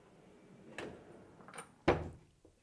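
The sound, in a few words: drawer of a workshop lathe cabinet opening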